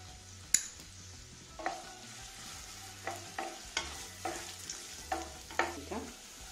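Soaked, peeled and chopped cashews and almonds with raisins, stirred and fried in a pan, giving a soft sizzle broken by a series of scraping spoon strokes, roughly eight or nine, at a steady rhythm.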